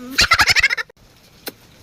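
A fowl lets out a quick rapid series of about eight loud throaty clucks close to the microphone, followed by near silence and one short faint note.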